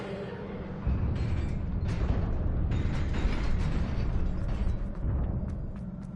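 A fire spell cast with a wand in Hogwarts Legacy, heard as a loud sustained roaring whoosh that flares up suddenly and carries steadily for several seconds with crackling bursts, alone without talk.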